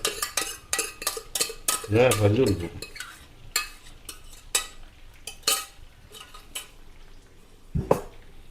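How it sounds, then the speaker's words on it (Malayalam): Lentils (dal) are stirred in a metal cooking pot: a spoon scrapes and clinks against the pot in quick irregular strokes, with a soft sizzle underneath and one sharp knock near the end. "ഇനി നന്നായിട്ടൊന്ന് ഇളക്കി കൊടുക്കുക"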